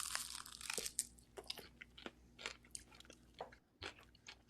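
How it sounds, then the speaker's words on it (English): Crunchy fried chicken wings are bitten and chewed up close, giving a loud initial crunch and then a series of irregular crackling chews, with no talking. "Damn, those are crunchy wings."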